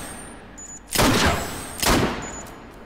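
Blade Runner blaster fired in the VR game Hot Dogs, Horseshoes & Hand Grenades: two loud, sharp shots about a second apart, each with a short ringing tail, against a quiet background.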